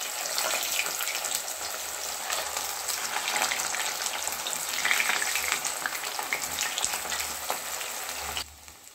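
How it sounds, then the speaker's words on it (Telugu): Cabbage Manchurian balls deep-frying in hot oil over a medium flame, a dense, continuous crackling sizzle that stays fairly even before cutting off abruptly near the end. "తయారు చేసుకున్న బాల్స్ని డీప్ ఫ్రై చేసుకుందాం. నూనె బాగా వేడెక్కింది."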